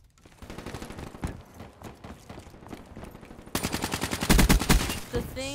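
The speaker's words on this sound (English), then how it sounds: "Dude, that gun shoots so fast." A rapid-firing gun in a video game lets off dense, continuous bursts that grow louder and heavier partway through, heard up close with game sounds around it.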